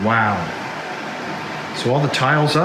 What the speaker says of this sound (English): I should have turned off the HEPA filter before recording this.